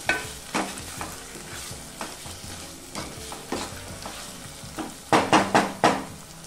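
Mutton keema with potatoes and peas being stirred in a pan after salt goes in, a spoon scraping in a steady rhythm over a low sizzle, with a quick burst of four sharp scrapes near the end.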